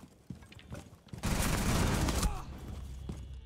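Rapid burst of automatic gunfire in Rainbow Six Siege, a dense, loud volley lasting about a second, followed by scattered quieter shots and game noises.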